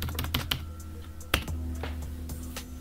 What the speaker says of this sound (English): we just need to type the IP address of our